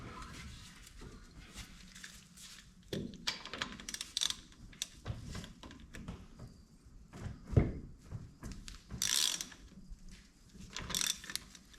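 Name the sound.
wrench removing drive shaft bolts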